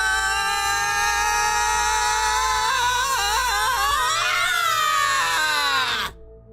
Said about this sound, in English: He ducks down and starts screaming.